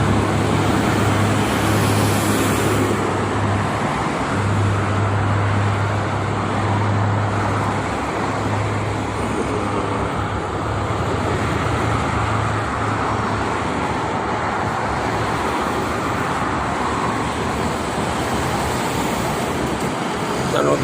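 Steady morning traffic on the Jakarta–Cikampek toll road, with tour buses and private cars streaming past, a loud constant roadside roar with a low engine drone and no gaps.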